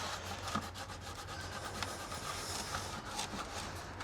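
Excess lube and dirt being wiped off the band of a Pentair pool filter cartridge, a soft, continuous rubbing close by and fairly quiet, with no talk.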